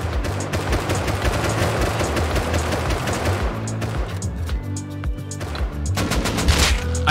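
Rapid automatic gunfire in the Rust survival game, dense overlapping bursts and shots rattling continuously from start to finish at close range, with a sharper louder burst near the end.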